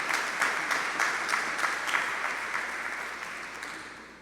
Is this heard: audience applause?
yes